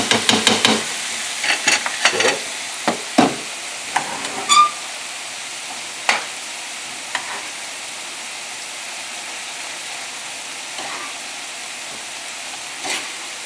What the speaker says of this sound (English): Mix the rice in.